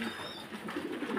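Fancy pigeons on a farm coo in a low, steady murmur, a continuous soft burble close by with several birds overlapping.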